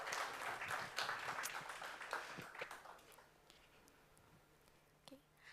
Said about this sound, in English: Give an applause to Akanksha